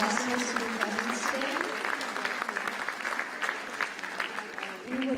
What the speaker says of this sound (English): Just another round of applause for all of you, an amazing audience.